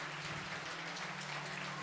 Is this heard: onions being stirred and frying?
no